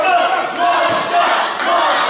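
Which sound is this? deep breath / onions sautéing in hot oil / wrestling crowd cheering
wrestling crowd cheering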